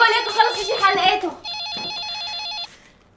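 A telephone rings in a home setting during a Syrian TV comedy, a steady electronic warbling trill that sounds alone for about a second after a stretch of speech.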